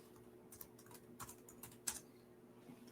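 Quiet, close clicking of a computer keyboard being typed on, a few scattered irregular keystrokes with small pauses between them.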